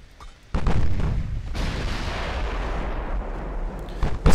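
Heavy battleship main guns firing in a naval combat game, 15-inch turrets mounted side by side, a loud sustained broadband roar of blasts rolling together for several seconds, with a sharper report near the end.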